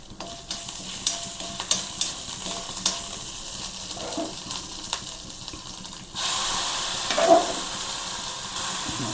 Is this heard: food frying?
yes